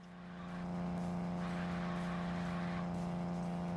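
A video game car's steady engine drone holds under a sustained high squeal of tires while driving straight, loud and continuous, fading in at the start.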